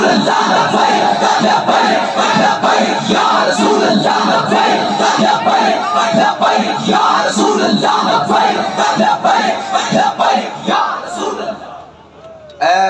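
A large crowd at a religious-political rally chants slogans loudly and continuously in unison, a dense roar of voices that holds for about eleven seconds before dropping off sharply.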